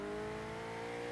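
McLaren engine in the racing game Forza Horizon 3, a steady, faint droning hum holding a constant pitch through the brief moment, with no talk over it.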